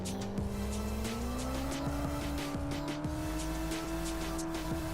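In the Drift Streets Japan video game, an underpowered Chevrolet Camaro SS drifts with continuous tire squeal over a steady, droning engine note, loud and unbroken for the whole stretch with no talking.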